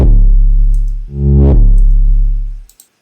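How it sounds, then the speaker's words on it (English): Short 808 bass notes in an FL Studio beat swell in like reversed samples, two loud bassy surges that rise and cut off, followed by faint ticks, with no voices. "I got a lot of short 808s and they giving like sounds of reverse 808."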